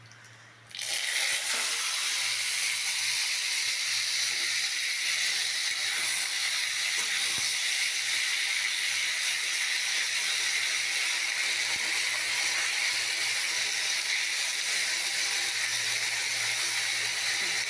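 Boiled taro greens land in hot tempered oil in a pan, setting off a sudden loud sizzle that holds as a steady, dense hiss to the end.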